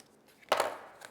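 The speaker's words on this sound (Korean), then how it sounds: "이렇게 비스듬히 칼질을 이렇게 비스듬히 하고" A knife slices at an angle through a tight-fitting 3D printed plastic part, giving one short, close scraping cut that rises and trails off, with a faint tap just after.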